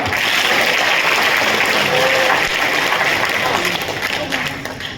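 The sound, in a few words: audience clapping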